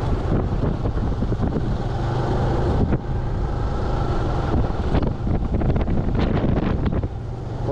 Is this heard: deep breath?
no